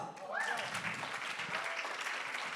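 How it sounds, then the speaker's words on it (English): An audience at a talk breaks into a round of applause, a dense wash of clapping that swells and holds for a couple of seconds, with a voice briefly audible over it at the start. "Round of applause."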